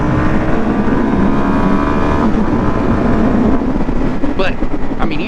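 A 2025 Suzuki DR-Z4SM single-cylinder motorcycle revs and accelerates up close, its loud engine note holding steady and then shifting pitch as it pulls away, with brief chirps near the end.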